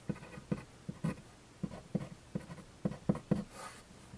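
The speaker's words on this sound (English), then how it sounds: "we always like to write our equation on our graph." A pen scratches out an equation on a graph in short, separate strokes, close and quiet, with a rhythmic run of taps and scrapes and no talking.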